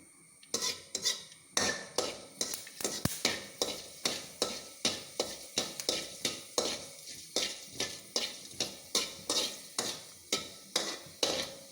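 Mustard seeds and fenugreek seeds fry in hot coconut oil in a pan, with a steady sizzle and a regular, rhythmic scrape of a spoon stirring against the pan, loud and close, with no talking.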